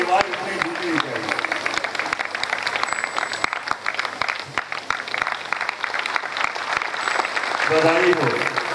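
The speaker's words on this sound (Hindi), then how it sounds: "आपको तालियों की आवाज इतनी गूंजनी चाहिए।" Loud, continuous applause from the audience at a Shrimad Bhagavat Katha religious discourse in Maharashtra, dense clapping throughout with a voice briefly rising over it near the end.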